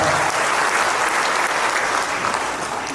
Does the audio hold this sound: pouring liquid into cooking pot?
no